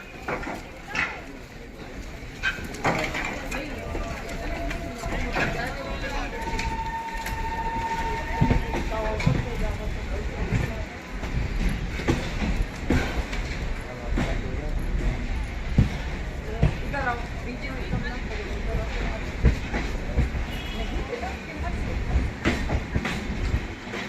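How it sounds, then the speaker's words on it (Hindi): A MEMU passenger train runs fast just after leaving Panki Dham, with a continuous rumble and rattle of wheels on track and occasional clicks and clanks. A voice talks at times over the noise. "यहाँ तो तुरंत ही अपनी ट्रेन को डिपार्चर दे दिया है पनकी धाम से"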